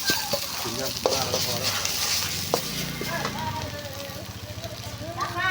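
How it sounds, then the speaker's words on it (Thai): Chili curry paste dry-roasts in a hot pan with a busy crackling sizzle and repeated scraping strokes of a stirring spatula, fairly close. "คั่วพริกไปก่อนครับ"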